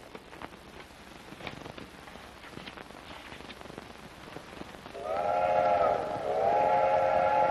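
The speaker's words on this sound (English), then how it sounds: "Hurry up, train's coming in." A train whistle sounds as a train pulls in, in a 1932 film, two sustained steam-whistle blasts with a short gap, loud over a steady hissing, rain-like background.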